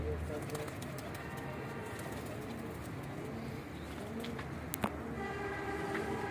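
A golden pigeon coos softly over a steady background hum, with a short sharp sound near the end.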